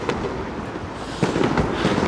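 New Year fireworks burst in a quick, loud, crackling barrage, with a sharper cluster of bangs partway through.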